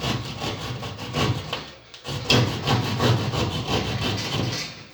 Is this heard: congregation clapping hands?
no